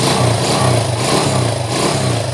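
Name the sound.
motorcycle engine running smoothly after top overhaul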